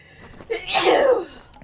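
A single sharp sneeze bursts out close and fairly loud during a game stream, a brief inhaled lead-in followed by the explosive release, with no talk over it.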